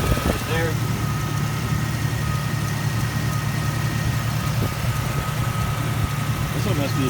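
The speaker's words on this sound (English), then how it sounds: "This one has no cold start knock or piston slap or anything. Sounds pretty good." A 1999 Jeep Cherokee XJ 4x4 with the 4.0 engine and a newly replaced exhaust manifold idles steadily and close, a smooth even hum without knock or slap, with someone talking over it.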